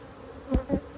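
Honeybees in a Holts Summit bee yard hum during a hive inspection, with two short swelling buzzes passing close by over a faint background drone.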